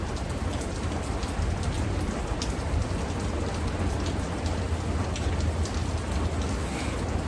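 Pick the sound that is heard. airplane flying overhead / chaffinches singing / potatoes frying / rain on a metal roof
rain on a metal roof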